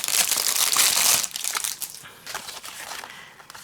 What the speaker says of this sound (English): I know some people don't like the sound of the crinkling.